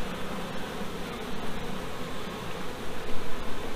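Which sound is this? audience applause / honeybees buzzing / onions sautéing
honeybees buzzing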